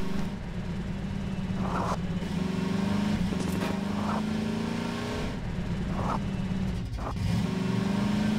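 A car engine drones steadily in a video game, holding a low rumbling tone with brief revs and shifts through the stretch, and no one talks over it.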